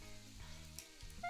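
Steaks frying on a grill in the PlateUp cooking game give off a faint, steady game sizzle, soft and continuous with a brief sharper tick near the end.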